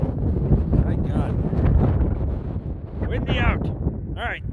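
Wind gusting across open farm pasture, a steady loud rush buffeting the microphone throughout, with a voice briefly heard over it.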